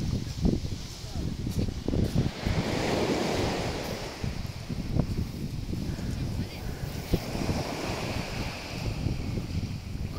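Sea waves wash ashore on the Antalya coast in Turkey under steady wind buffeting the microphone, a continuous rushing surf with faint voices mixed in at times.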